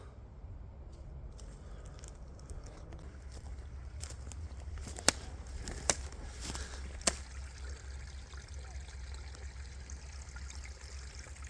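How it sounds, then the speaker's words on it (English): A forest stream at a hammock campsite on a freezing night trickles and babbles steadily, a constant close flow with a few sharp clicks partway through, and no talking. "Well, there's water running down from somewhere."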